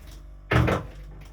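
A kitchen drawer pulled open: one short, loud sliding scrape and knock lasting under half a second, close by, with quiet before and after.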